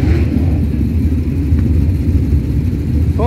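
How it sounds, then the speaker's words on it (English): A push truck rolls onto a dirt race track during a main event at Blackhills Raceway, its steady engine rumble loud and close, with a brief rising rev near the end. "Oh, here comes the pushing truck."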